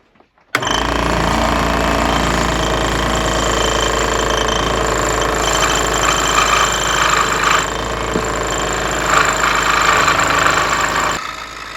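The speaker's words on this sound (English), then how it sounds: "This clip is at 4 times speed because I wanted to show you the precision of the saw." A scroll saw cuts wood pieces with a loud, steady, rapid buzzing chatter that starts abruptly and runs continuously close by, then cuts off just before the end.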